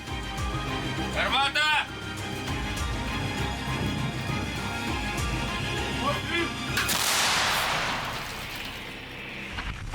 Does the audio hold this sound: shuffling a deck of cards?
no